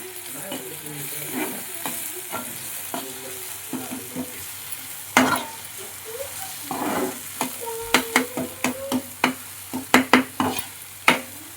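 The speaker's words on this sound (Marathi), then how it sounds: "आता हे एक करून घेते सर्व ढवळून." A spoon stirs a fish masala mixture with turmeric in a hot pan, scraping and clattering in bursts over a steady sizzle, the strokes getting louder and quicker toward the end, with no talking.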